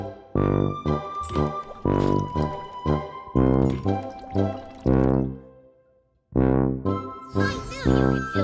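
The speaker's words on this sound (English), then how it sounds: "Pour engine fluid by color into tanks." Liquid pours in a cartoon car repair game, mixed with bright chiming jingles and tinkling tones in short bursts, with a brief silent gap before the sounds pick up again.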